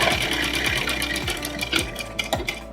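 Sewing machine stitching fabric for a ladies' palazzo pant, running in a steady rhythmic series of mechanical stitch pulses with a faint continuous motor whine, fairly close and alone without talk.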